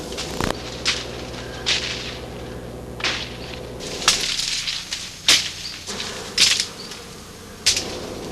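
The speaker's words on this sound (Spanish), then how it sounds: "abejas asesinas, importadas hace 20 años de África en un esfuerzo para aumentar la producción de miel" Africanized killer bees drone in a buzzing swarm, with a hum that rises and falls and swishes as insects pass close by.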